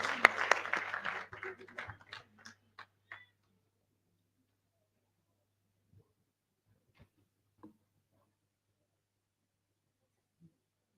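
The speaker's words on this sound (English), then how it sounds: "Round of applause, please." A meeting audience at a pharmacists' annual general meeting claps for about three seconds, the applause thinning into a few scattered claps before near silence with faint distant knocks.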